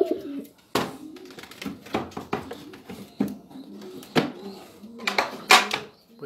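Pigeons in a breeding loft give soft intermittent coos among scattered wing flutters, knocks and scuffs, close by and fairly quiet, with no speech.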